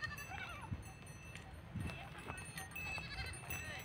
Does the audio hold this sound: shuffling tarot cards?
no